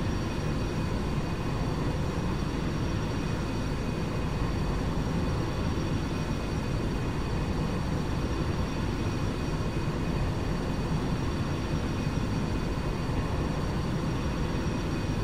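Steady, loud aircraft engine drone at maximum throttle in the X-Plane 11 flight simulator, a continuous broadband roar with faint high tonal whine, unchanging throughout with no talk.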